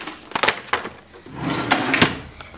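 A desk drawer in a small home office slides open with wooden scraping and rattling of loose contents inside, a series of close clattering movements with no talking.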